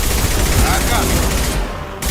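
Rapid automatic gunfire in the video game Mass Effect Legendary Edition, a loud, dense burst lasting about two seconds before cutting off, with voices mixed in.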